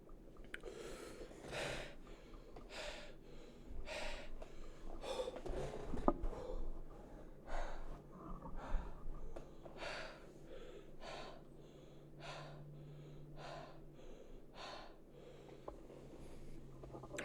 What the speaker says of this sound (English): I'm sorry there's so much breathing in these videos